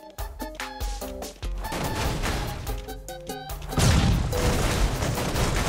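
Explosion in the Goat Simulator video game: a sudden loud, broad burst about two-thirds through cuts into choppy tonal game sounds and lingers as a noisy rumble.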